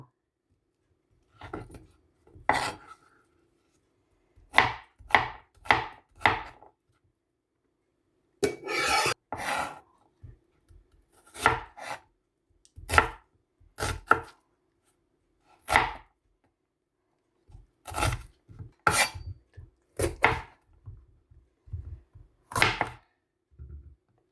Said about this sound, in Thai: หั่นสี่เหลี่ยมลูกเต๋า